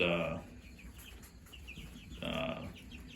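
Freedom Ranger meat chickens cluck softly nearby, short bursts of clucking at the start and again near the end.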